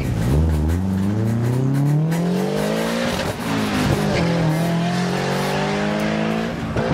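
A drag racing car launches off the line at a test and tune session at Heathcote Park, a loud engine rising steadily in pitch through the gears, dipping once at a shift, then climbing again.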